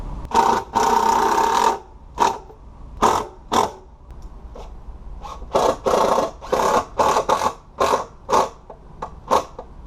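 A power driver sinks 2.5-inch screws into wood while a DIY potting table and workbench is built. There is a long whirring run and then many short, close, loud bursts with brief gaps between them.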